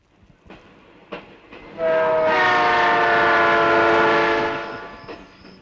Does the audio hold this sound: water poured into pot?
no